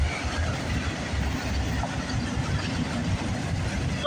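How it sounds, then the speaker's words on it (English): A freight or passenger train rumbles past at Burlington West on the Oakville Subdivision, a steady, loud low roar of wheels and engine filling the whole span without a break. "Wasn't expecting this train to show up today."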